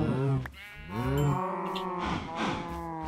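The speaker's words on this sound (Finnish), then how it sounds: "Tuolla on lehmiä." Minecraft cows give long drawn-out moos, loud and close, a few overlapping calls one after another with no talking.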